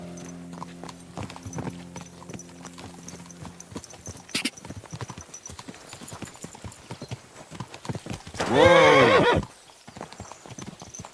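Horse hooves clip-clop in an irregular walking rhythm in the video game Kingdom Come: Deliverance 2, followed by a loud neigh near the end, with brief speech over them.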